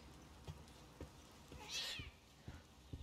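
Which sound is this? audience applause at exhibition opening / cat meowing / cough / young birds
cat meowing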